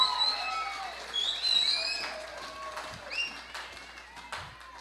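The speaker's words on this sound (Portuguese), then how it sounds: "Uma salva de palmas aí para o Reginaldo." Brief, moderately loud applause from a church congregation welcoming a first-time visitor during an online Sunday service, scattered clapping rising and fading over a few seconds with some voices mixed in.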